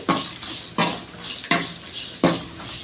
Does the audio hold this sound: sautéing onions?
yes